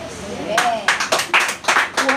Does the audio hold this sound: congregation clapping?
yes